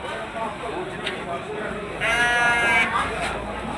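Jawa Randu goats at a busy livestock market, with a bleat rising over crowd chatter and steady background noise; people talk nearby.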